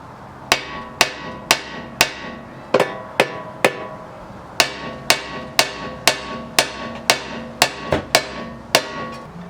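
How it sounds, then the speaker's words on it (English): A hammer strikes a Honda steering knuckle near the ball joint, about twenty sharp metallic blows in quick rhythmic bursts with a brief pause midway, each hit ringing loud and close. "grab my hammer, and smack the crap out of this until it loosens up"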